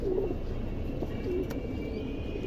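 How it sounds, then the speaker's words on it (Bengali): Two pigeons coo softly in low, rolling bursts, heard close but faint over a steady background hum. "এই যে দেখেন দুইটা কবুতর"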